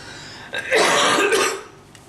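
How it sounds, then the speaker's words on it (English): A single rough, throaty cough close up, lasting about a second against a quiet background. "I've got a bit of a terrible cough at the moment"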